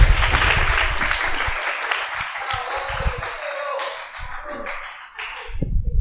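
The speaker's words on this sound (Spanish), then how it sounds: "Vamos a dar un aplauso" An audience at a panel on sexuality and dating applauds for several seconds, dense clapping that thins into scattered claps before a short fresh burst at the end.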